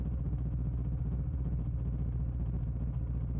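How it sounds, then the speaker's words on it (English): A motorcycle engine drones steadily during a midnight ride along empty night roads, a constant low rumble with no talk. "Engine noise replaces wandering thoughts."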